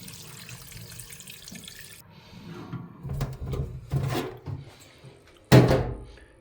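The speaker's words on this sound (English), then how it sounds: "Let's add some water." Water from a tap pours in bursts into a rock tumbler barrel holding borax slurry, with quiet handling clunks between the pours and a final louder splash.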